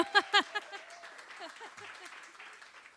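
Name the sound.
audience applause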